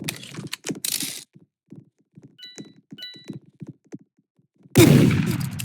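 Gunfire in the Roblox game Murder Mystery 2: after a stretch of quiet tapping and faint game sounds, a loud sharp shot bursts out near the end, alone and up close.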